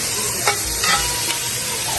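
Butter and olive oil sizzling on a hot outdoor grill before veggies are charred, a loud, steady, close frying hiss with brief bubbling flares.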